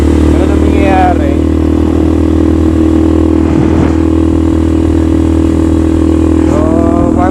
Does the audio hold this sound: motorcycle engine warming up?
yes